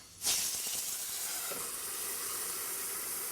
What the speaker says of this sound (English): I'm going to dump in the water and I'm going to immediately cover them so that they can steam.